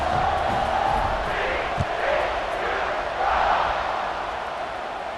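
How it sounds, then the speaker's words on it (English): A stadium crowd in the College Football 26 video game keeps up a steady, loud buzzing roar after a score, swelling slightly at moments, with commentary talking over it. "this crowd is buzzing after that last score"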